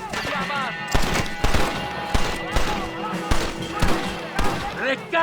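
Rapid gunfire in the video game Red Dead Redemption, repeated sharp shots in an uneven rhythm over a continuous battle din, with voices shouting in between.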